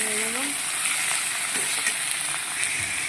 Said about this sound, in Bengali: পেঁয়াজটা আমার হালকা লাল হয়ে এসছে, এই সময় আমি মাংসটা দিয়ে নেব।